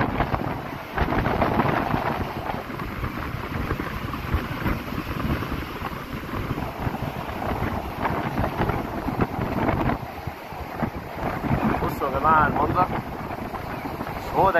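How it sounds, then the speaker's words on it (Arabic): Strong gusting wind buffeting the microphone on coastal cliffs near caves, heavy rumbling roars and blustery bursts throughout, loud and close, with occasional voices faintly audible beneath. "طبعا الهواء شديد شديد شديد شديد"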